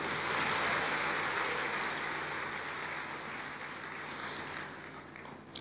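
A church congregation applauds together in a steady wash of clapping. It sounds fairly distant and soft, then fades slightly toward the end.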